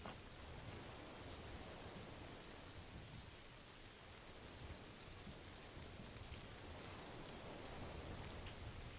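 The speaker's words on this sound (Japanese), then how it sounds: "雨の音でスパイが何言ってるか分かんなかった。" Steady rain pours continuously in a video game, a dense, even hiss that fills the whole stretch without a break and no voices on top.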